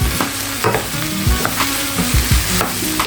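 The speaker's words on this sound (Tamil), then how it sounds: "இப்போ நான் வெண்டைக்காய் போட்டேன். இந்த வெண்டைக்காய் வதங்க அதுக்கு சரியாகும்." Okra sautéing in a pan, a continuous loud sizzle with repeated scraping stirs and clinks of the spatula, close up and with no voices.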